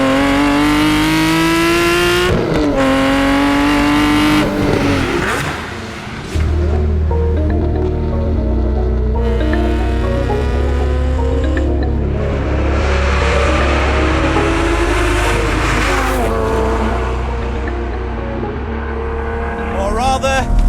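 A 2001 Lamborghini Murcielago supercar with a manual gearstick roars close and loud, revving up through the gears with rising engine pitch, a brief lift and shift, then hard acceleration again under a heavy, continuous growl.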